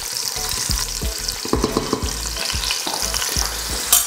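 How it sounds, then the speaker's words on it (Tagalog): Carrots for a Filipino caldereta frying in oil, a loud continuous sizzle with repeated scraping stirs of a utensil against the pan, close up, rhythmic and uneven, without speech. "So halu-haluin lang natin ito ha, para maprito natin ang lahat ng sides ng carrot"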